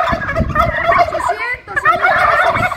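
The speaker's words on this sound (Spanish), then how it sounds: "24 guajolotes machos, vean nada más." Male turkeys gobbling in a dense, overlapping chorus at a livestock market in Puebla, loud and near, with calls rising and falling continuously and no clear talk over them.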